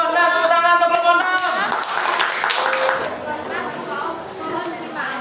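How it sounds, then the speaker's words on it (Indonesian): A classroom audience claps for a student group after its presentation, a burst of applause mixed with voices and chatter that gradually tapers off. "Tepuk tangan untuk kelompok 6."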